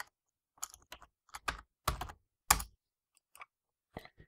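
Sparse, distinct keystrokes on a computer keyboard while adding a menu in Visual Basic 2010 Express, each tap crisp and close in a quiet room with gaps between presses.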